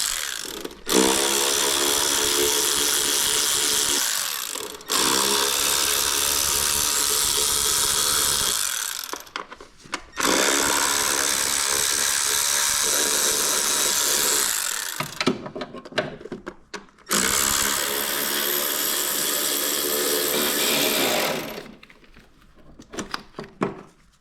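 A ratchet tool spins out bolts from the engine cover of a Citroen C5 1.6 HDi with a 7 mm socket, sounding in four long, loud whirring bursts separated by short pauses, close up with no talk.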